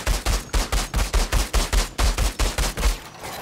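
Rapid automatic gunfire in Outrider, about sixteen evenly spaced, punchy shots in a steady rhythm with one brief break, loud and close.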